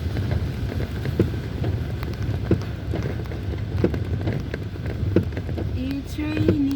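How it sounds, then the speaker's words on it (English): Heavy rain drums on a road in Kuwait City, a broad, steady wash of noise buffeted by wind on the microphone, with scattered sharper knocks and a faint tonal squeak late on. "It's raining outside, Shari."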